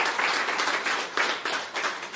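Brief, steady applause from a startup panel audience, with many hands clapping together at close range, continuous and fairly loud.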